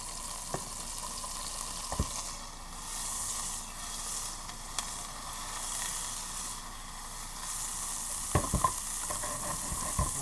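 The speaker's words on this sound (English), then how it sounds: "We're going to hit this with a little softened butter as well." Softened butter sizzles and hisses steadily in a hot pan for tofu parm, a continuous frying crackle with a few sharp clicks and knocks, fairly close and alone without talk.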